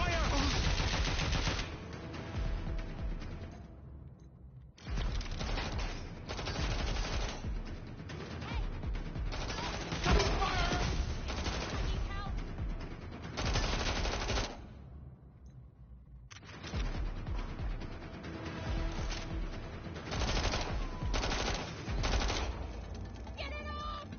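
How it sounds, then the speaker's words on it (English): Sustained automatic gunfire from the video game Watch Dogs Legion rattles in loud, dense bursts, broken by two short pauses, with mechanical clatter woven through the shooting. "Providing suppressive fire!"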